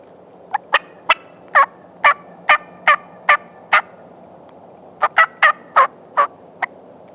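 Wild turkey gobbling in October woods, a string of about eight loud rattling gobbles in quick succession, a pause, then another burst of six, carrying clearly over quiet background.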